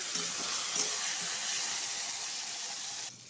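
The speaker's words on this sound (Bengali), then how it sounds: "এখন অল্প ভাজা হয়েছে পুরো ভাজা হয়নি" Potato and pointed gourd fry in a pan with a steady, close sizzle that holds evenly for a few seconds before easing slightly at the end, with no talking.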